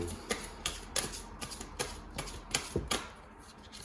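Quick, crisp riffling bursts of tarot cards being shuffled, repeating in a steady rhythm, close by and fairly quiet.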